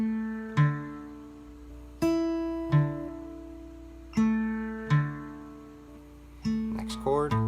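Fingerpicked acoustic guitar pattern for a song, with a low bass note struck about every one and a half seconds and ringing treble strings above, then a quicker run of plucked notes at the end, played alone without talk.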